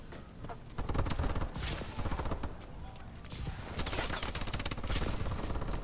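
A sentry gun fires in Call of Duty: Advanced Warfare, rattling out rapid bursts of automatic fire at moderate, fairly distant volume, with shots blending into a continuous clatter.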